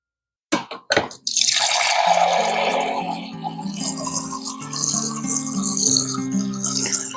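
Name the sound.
water dispensed from the refrigerator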